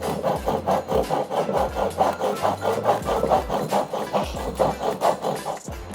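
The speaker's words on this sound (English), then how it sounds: "First step of making this DIY penny box is cutting all of your plywood." Plywood being sawn into box pieces, a steady rhythmic rasp of repeated back-and-forth strokes, close and continuous throughout with no talk.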